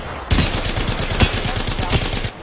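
Rapid automatic gunfire in a ranked multiplayer shooter match, a dense burst of evenly spaced shots lasting about two seconds, loud and close with a heavier report near the middle.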